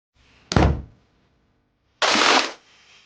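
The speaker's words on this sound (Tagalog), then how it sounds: "narinig ko na lang ang malakas na paggalabog sa pinto" Two loud, heavy bangs on a door, a sharp thud followed by a longer pounding burst a moment later, with silence in between.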